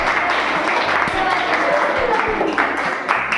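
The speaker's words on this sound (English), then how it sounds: "Clap. Clap." Students in a classroom clap together during a school experiment lesson, a steady close patter of hands continuing throughout under a teacher's voice.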